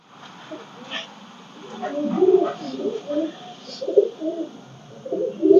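A Fakir Gul pigeon coos in low, throaty bursts, repeating several times close by with short pauses between calls.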